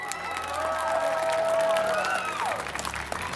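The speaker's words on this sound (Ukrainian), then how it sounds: "Нехай зараз прозвучать бурхливі оплески для всіх нас." Crowd applause at a charity event, a broad wash of clapping with cheering and voices, and a sustained musical tone running through the middle.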